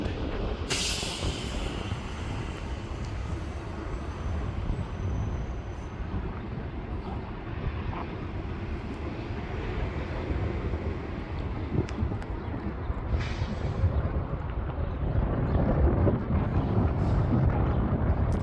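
An airliner taking off with the wind at Milwaukee airport makes a steady, distant roar that swells gradually and grows louder toward the end.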